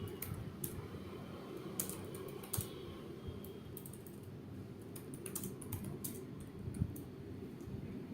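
Someone types steadily on a computer keyboard in a quiet room, with rapid uneven clicks and keystrokes. The sound is soft and continuous, with a low hum underneath.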